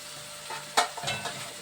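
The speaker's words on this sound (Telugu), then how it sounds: "ఇది ఉడుకుతుందండి, వేగుతుంది." Gongura leaves stirred and frying in a pan on a gas stove, a soft sizzle with a sharp scrape of the spatula and a few quieter stirring strokes.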